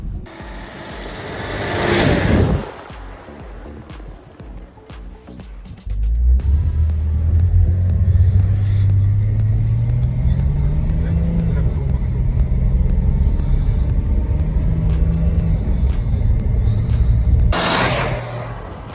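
A Mercedes-Benz W211 drives along a road, heard as a low, steady engine rumble inside the cabin that swells midway and holds, while people talk over it.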